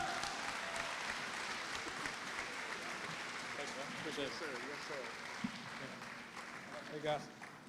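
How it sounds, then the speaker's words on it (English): An audience at a community center ribbon-cutting event applauds a guest speaker. The clapping comes as a sustained, fairly distant wash, with murmuring voices and a few brief cheers mixed in. "Give him a round of applause"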